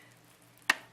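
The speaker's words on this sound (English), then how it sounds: "Let me cut one slice" A knife cuts one slice from a ham loaf, a single short, crisp slicing sound in an otherwise quiet kitchen.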